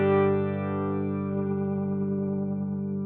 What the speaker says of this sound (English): Do you hear how fast it ramps from the slow speed to the fast speed?